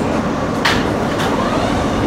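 Riding aboard an R160 Z local on the New York City subway in Brooklyn: a steady loud rumble of the moving car with broadband rail roar, and two brief clattering bursts as the wheels pass rail joints.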